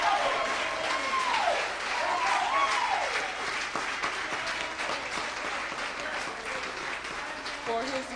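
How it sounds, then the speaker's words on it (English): Congregation applauding in a church, a steady wash of clapping that continues throughout, with voices talking over it. "if everyone would just rise and give an applause for the Reverend Sharif Abdul Rashad."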